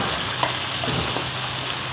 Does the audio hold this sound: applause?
no